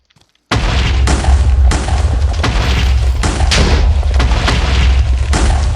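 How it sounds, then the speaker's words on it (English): Grenades launched and exploding in the Minecraft video game, a steady run of loud, dense booms following one another in quick succession with no talking. "I could sit here and fire off grenades basically all day long"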